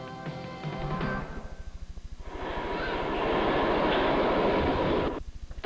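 Subway train arriving as a sound effect in a radio advert: rhythmic clattering of wheels over rail joints under a rising rush of noise, loud and close, with no voices.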